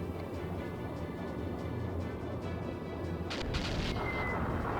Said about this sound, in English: Moonstone Cannon is definitely going to be overkill, considering how much damage my normal cannons are doing